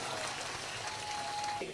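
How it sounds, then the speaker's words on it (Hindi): A large outdoor audience at a religious gathering claps for themselves, a steady, dense patter of applause that sounds almost like rain, with a faint tone over it and no clear speech. "आप अपने लिए ताली बजा लो।"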